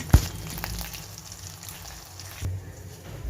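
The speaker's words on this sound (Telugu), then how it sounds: "టమాటా పప్పుకి కొంచెం ఆవాలు జీలకర్ర వెల్లుల్లిపాయలు ఎండుమిర్చి కరివేపాకు పసుపు వేసుకొని పోపెట్టుకున్నాను" Oil crackles and sizzles in a pan as mustard seeds, cumin, garlic, dried red chillies, curry leaves and turmeric are tempered for tomato dal. A sharp pop opens it, and a second burst follows over a soft, steady sizzle.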